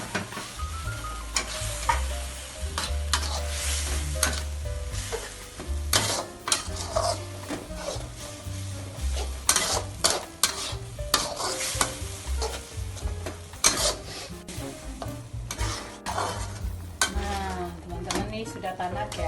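Sliced chili frying in a pan for stir-fried clams, with loud, steady sizzling and repeated scraping and clinking of a utensil stirring against the pan, close up throughout.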